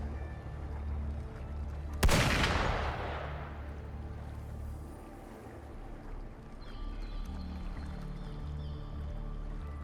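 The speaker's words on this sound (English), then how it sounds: "Gunfire! We've got intruders." A gunshot in the video game Wuthering Waves bursts out as a single loud crack with a long rolling echo, over a steady low droning game soundscape.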